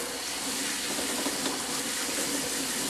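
Tap water pours steadily into a pot of long-grain rice being rinsed in a kitchen sink, a constant close hiss of splashing with no pauses and no voices.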